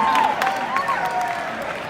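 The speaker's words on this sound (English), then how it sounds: "Let's give David a round of applause" A live audience at a motivational speaking event with Les Brown gives a steady round of applause for David, dense clapping filling the room with a few whoops and cheers riding over it.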